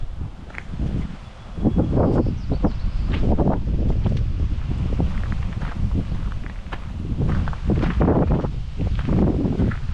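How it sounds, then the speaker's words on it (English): Strong, gusty wind roars and buffets the microphone in a continuous low rumble, with faint rustling underneath. "as you can probably hear, it is pretty windy"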